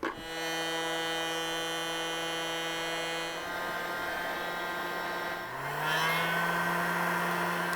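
A heat gun, used while wiring a camp light on a Land Rover Discovery 3, gives off a steady electric whine and hum nearby. The tone shifts partway through and then rises to a slightly louder, higher pitch that holds to the end.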